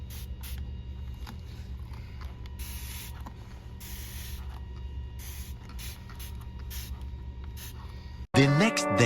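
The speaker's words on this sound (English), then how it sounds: "if you kind of use your squirt bottle, you can break up those singular lines into little trails" Squirt bottle misting water in repeated short, hissing bursts over painted rust-effect metal on a side table, the sprays fairly close and steady against a low background hum, ending in a sudden louder burst of different sound.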